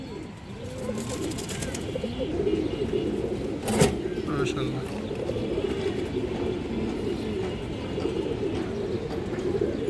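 Large pigeons coo in a cage line at a bird market, low throaty calls repeating under a busy background with people talking nearby and a brief sharp knock midway.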